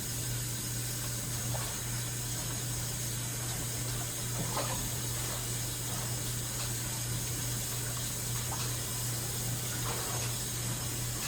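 Tap water runs in a constant, steady rush while clams are rinsed, accompanied by a low electrical hum and a few faint clinks.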